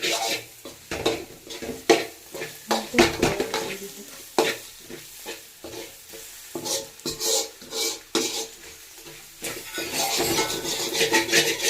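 Egg with onion and capsicum frying in a pan, stirred with repeated scraping strokes over a steady sizzle, close and fairly loud, with no talking.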